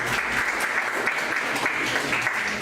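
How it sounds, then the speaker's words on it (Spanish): Audience applause at an evening bioinformatics conference lecture, a dense, steady clapping that fills the whole short stretch at even loudness, with no voices over it. "pido un aplauso para el colega,"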